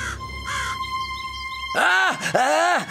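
Two loud, harsh crow caws in quick succession follow a quieter stretch of a steady tone and faint background sounds, heard in a French children's fairy-tale story.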